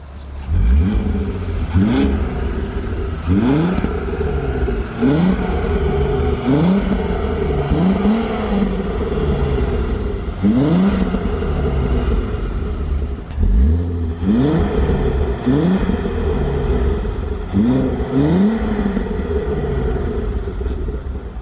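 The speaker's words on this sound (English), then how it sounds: "I'm gonna go rev it again just because I love the noise." A Volkswagen Golf Mk4 R32 engine revs again and again, loud and close, with rising and falling sweeps in a steady rhythm over a constant rumble and no talking.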